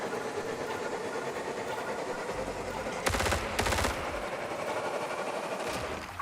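Video game submachine gun fire, two short rapid bursts in a row, close and sharp, over a steady background hum.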